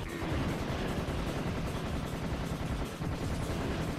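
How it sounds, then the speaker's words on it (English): Tommy gun in the shooter game Serious Sam, firing continuously and loudly for several seconds as a dense, sustained rattle of automatic gunfire, with only a brief dip near the end. "Tommy gun."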